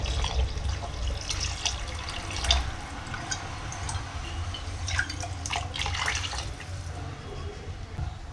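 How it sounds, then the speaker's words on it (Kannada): Water splashes and trickles into a pot for chicken pulao with small drips and gurgles, steady and close, fairly quiet throughout. "ಈಗ 2 ಮಿಳ್ಳೆ ನೀರು ಹಾಕೋತಾ ಇದ್ದೀನಿ."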